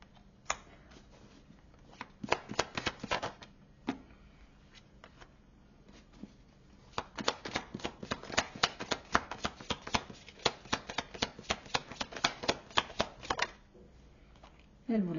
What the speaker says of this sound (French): je vais finir de tirer les cartes pour voir